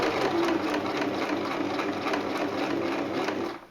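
Sewing machine stitching stretch fabric in reverse, with a steady, fast mechanical whirr running continuously and fairly close before stopping abruptly at the end.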